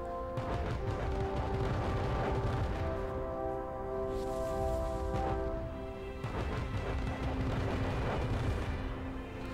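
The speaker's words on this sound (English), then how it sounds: "Fireworks show to finish it off." A fireworks show in The Wonderful 101 Remastered video game bursts in dense, continuous booms and crackles layered over sustained musical tones, loud and unbroken throughout.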